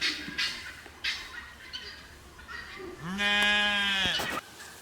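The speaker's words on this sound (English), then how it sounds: "Good morning, sheep." Sheep on a homestead bleat close by: a few faint calls early on, then one loud, long, wavering bleat near the end, heard alone without talk.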